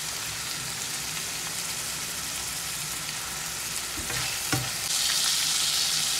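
Ground pork frying in a pan and being stirred, a steady close sizzle with a few scraping stir sounds, growing louder and brighter near the end.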